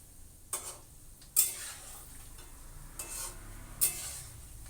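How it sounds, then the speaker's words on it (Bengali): Malpua batter bubbles as it fries gently in oil, a low, faint sizzle broken by a few sharp clinks and scrapes as a utensil stirs it. "এই দেখো তেলের মধ্যে দিয়েছি, টুকবুক টুকবুক করে উঠছে, তাই না? একটু নাড়াচাড়া দিয়ে দিচ্ছি।"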